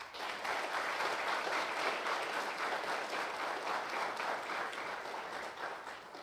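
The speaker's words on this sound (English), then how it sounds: "So, Larry, we applaud you as well." A crowd at a police Emergency Service Unit graduation ceremony applauds steadily for several seconds, a dense, even wash of many hands clapping together that tapers slightly at the end.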